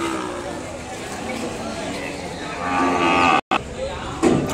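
Ongole cattle at a weekly livestock market in Kodad moo loudly over a busy background of chatter and people talking, with a fresh call rising near the end.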